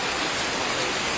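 Steady rain pours down outdoors in Yopougon, Côte d'Ivoire, a dense, even hiss of drops with no gaps and no voices.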